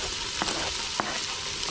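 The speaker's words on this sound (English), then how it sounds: "Onion, there goes that jalapeno, some garlic, stir that around in there" Onion, jalapeno and garlic frying on a cookstove, a steady broadband sizzle with a few sharp clinks of stirring near the middle and toward the end.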